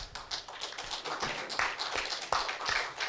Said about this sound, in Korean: 나오실 때 박수를 부탁드리겠습니다